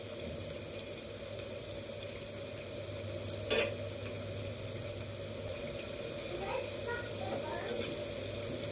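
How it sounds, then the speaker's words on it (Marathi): Aluwadi fry gently in a pan over a low flame, giving a steady soft sizzle throughout, with a brief clink of a utensil and light stirring scrapes. "लो फ्लेमवरच आपण तळून घेऊ."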